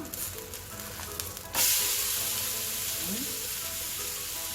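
Rava uttapam cooking in a hot pan, a soft background sizzle that jumps to a loud, steady hiss midway, as if just flipped or pressed down, close by with no voices.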